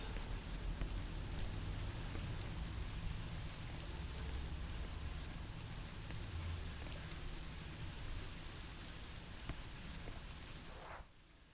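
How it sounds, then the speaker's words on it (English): Steady rain hisses throughout in the horror game Song of Horror, a dense even wash of drops that stays soft and constant before cutting off abruptly at the end, with no talk. "Is it the rain?"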